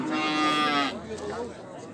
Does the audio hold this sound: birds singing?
no